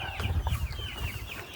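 Chickens on a poultry farm clucking in a low, busy murmur, several birds overlapping close by with no pauses, their soft calls layered over a steady barn hum.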